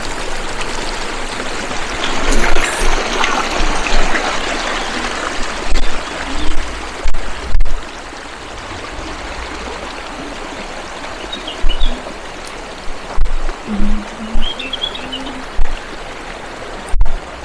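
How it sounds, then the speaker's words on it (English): Steady babbling water runs along a village water channel in Gircha, Hunza, with a few louder gurgles and splashes breaking in at intervals, close by and without voices. "there's still water flowing from it, and that's really cool"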